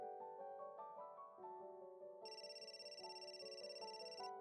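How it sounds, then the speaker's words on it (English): A mobile phone rings with a bright, repeating electronic ringtone melody that keeps playing steadily, with a higher tone joining midway, heard alone and fairly faint. "At the very moment my phone rang."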